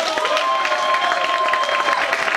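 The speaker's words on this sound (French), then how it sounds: "ça mérite un tonnerre d'applaudissements" Dense, continuous applause from a crowd at a school awards ceremony, a thick wash of clapping with some cheering and a sustained tone running through it.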